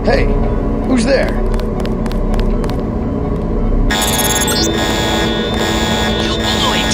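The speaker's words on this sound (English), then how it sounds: "You blew it. The alarm just closed the north door" A continuous electronic alarm tone in the stealth game Deus Ex, starting abruptly partway through and holding steady and loud over a droning background with faint game noises before it.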